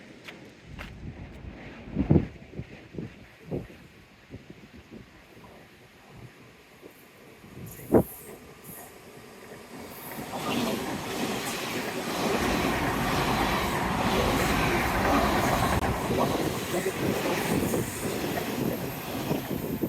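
A steam train approaches and rumbles past, a low steady roar building midway and holding, after scattered faint knocks and quiet surroundings at the start.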